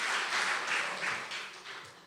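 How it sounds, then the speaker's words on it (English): An audience at a storytelling event claps in sustained applause, a dense, fairly loud wash of hands that gradually fades over about two seconds. "I'd like to give a round of applause again for Eddie, for Carlos, Cassandra, Ruth Ann, and Tom."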